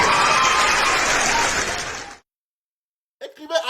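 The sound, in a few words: applause for Aïcha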